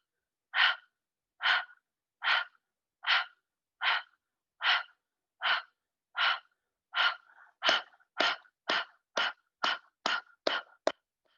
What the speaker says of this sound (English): let's just one open mouth exhale together